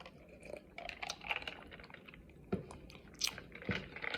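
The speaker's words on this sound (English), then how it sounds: "Let me get a drink." Close, quiet swallows and gulps of Ocean Spray Cran Grape juice, with small wet mouth sounds, faint clinks and scattered crackly handling noises between sips.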